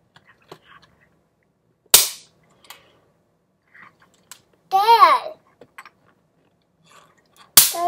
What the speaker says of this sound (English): I gotta do these little snaps here real quick.